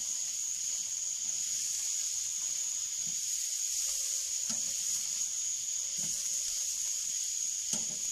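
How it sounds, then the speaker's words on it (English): Stuffed burger patties sizzle in a pan as they are flipped, a steady close hiss with a few soft scrapes and taps from the turning, and no talking. "we're going to flip them back over just to go ahead and make sure all the seasoning is seared in"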